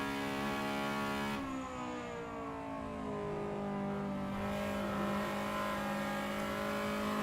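Honda Civic race cars racing at Donington Park, engines revving hard and loud as a pack passes close, the pitch sweeping up and down with gear changes and a faint tire whir underneath.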